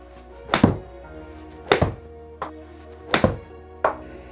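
Golf club striking a ball during practice swings in a hole-in-one challenge, four sharp thunks spaced about a second apart, fairly close and loud, with no talking.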